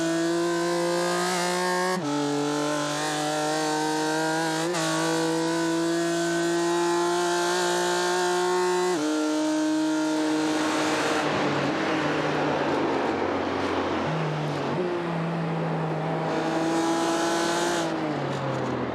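BMW M4 GT4 race car engine in a LEGO Technic sim race at the Nürburgring, loud sustained revving with gear-shift drops and rising pitch, later a rougher roar with tire squeal, no talk.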